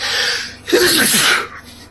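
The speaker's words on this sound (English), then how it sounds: "And I'm gonna sneeze again" A single loud, sharp sneeze bursts out after a brief inhale, close up, then trails off into quiet breathing.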